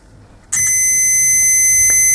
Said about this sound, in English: test the multimeter by putting the two terminals together and we should hear a beep